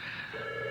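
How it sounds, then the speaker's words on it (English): A telephone rings briefly at radio station KTIB, a short, steady electronic tone that is fairly faint. "Okay, that's a phone."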